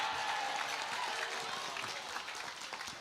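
An audience claps steadily in a dense, even wash of applause, heard from a moderate distance and fading slightly toward the end.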